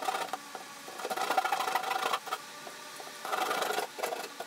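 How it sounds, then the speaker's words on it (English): A hand pull saw trims the edges of a wall panel in a bus conversion, giving rapid rasping strokes in two bursts with a short pause between, close and steady with no talking. "now I'm gonna use a pull saw to just clean up the edges"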